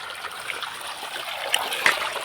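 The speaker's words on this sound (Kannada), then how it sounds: "ನೀರೊಂದು ಕಡೆ ಹೋಗ್ತಾ ಉಂಟು" Water running off in a small outdoor stream, a steady close trickling and splashing wash with a few brighter splatters, no talk.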